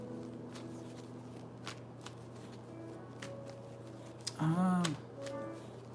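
Oracle cards are shuffled in quiet, soft riffling bursts, with a brief louder flurry near the end, close by in a calm room, and no talk over them.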